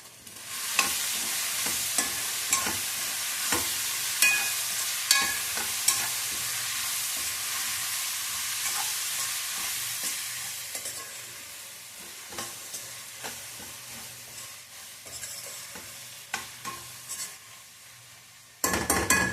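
Onions frying with salt in a pan, a steady sizzle broken by repeated scrapes and clinks of a stirring spoon against the pan, fairly close, with no talk.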